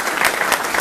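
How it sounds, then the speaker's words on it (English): A crowd applauding at a gathering, a brief burst of dense clapping from many people, loud and close, with no talk over it. "Everybody, round of applause"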